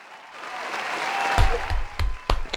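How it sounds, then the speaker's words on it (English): A round of applause for Kellen Moore, coach of the Saints football team, swelling over a couple of seconds with a few sharp loud claps standing out. "let's give Kellen Moore a round of applause"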